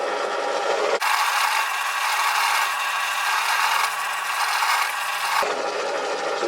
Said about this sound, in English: I've decided to give it a polish before I cut, to save any polish going on the inside.